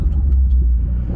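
Porsche 992 Carrera S with a stage 2 engine tune, a deep, loud engine rumble heard close and sustained for a brief moment.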